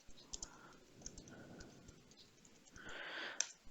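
Keys tapped on a computer keyboard while entering a name, a quiet run of scattered light clicks, close and soft, ending in a slightly louder burst of taps.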